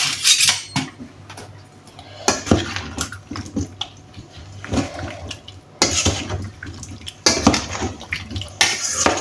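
Beans being stirred in a vinegar and oil marinade, with repeated clinks and scrapes of a utensil against a bowl in uneven bursts, close and fairly loud, with no talking.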